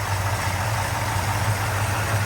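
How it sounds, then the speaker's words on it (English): Car engine idling at about 750 RPM in a garage, a steady low hum with an even throb close by and no voices. "there we got the engine running"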